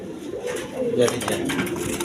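A big Kashmiri female pigeon coos briefly up close, a low throaty sound with someone talking over it.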